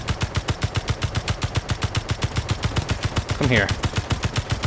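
Rapid automatic gunfire in the space-building game Space Engineers, a steady, evenly spaced burst of loud shots running throughout, with someone speaking briefly over it near the end.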